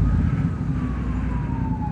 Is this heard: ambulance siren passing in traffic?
yes